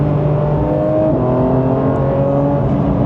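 A Porsche 911 GT3 with a naturally aspirated engine revving, a loud, close, sustained mechanical tone with steady harmonic pitch that dips slightly and then holds, with no voices.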